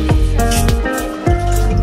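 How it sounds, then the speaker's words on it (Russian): Water gurgles into a homemade concrete bucket with a bottom check valve as it is lowered down a borehole well; a few deep glugging splashes sound close up over a steady background rush. "Водичка там набирается."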